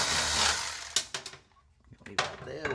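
A ratchet wrench loosens a half-inch nut on a 1955–56 Chevy steering column, giving short bursts of quick metallic clicking separated by pauses, close up, after a rustling noisy start.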